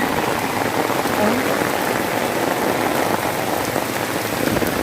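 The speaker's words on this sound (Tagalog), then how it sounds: "Lakas guys, ang lakas ng ulan." Heavy rain pours down steadily, a dense, loud hiss of drops drumming on surfaces without letup.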